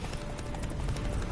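Roach, Geralt's horse in the Witcher 3 video game, gallops hard through a blizzard, its rapid clip-clop hoofbeats running continuously under wind and a dense game soundscape.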